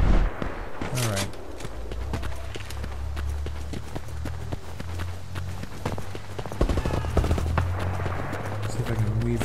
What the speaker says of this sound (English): There's a guy already there shooting, so let's not go that way.